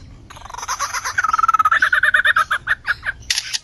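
A lyrebird mimicking a camera shutter: a rapid run of sharp mechanical clicks and whirring bursts, close and loud, slowing into separate chirpy clicks.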